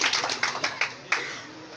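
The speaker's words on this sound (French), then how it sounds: "Donc ça mérite un applaudissement." Audience applause at a school event: a short burst of scattered hand claps with a few sharp individual claps, fading quickly into quiet.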